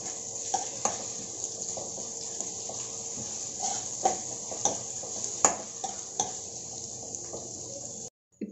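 Onion egg curry with turmeric and paste is stirred in a pan, with a gentle background sizzle broken by repeated spoon scrapes and taps against the pan, ending in a sudden cutoff.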